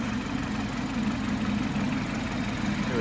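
A BMW 420i xDrive M Sport Gran Coupe engine idles steadily with the bonnet open, a low, even rumble and faint ticking with no change in revs.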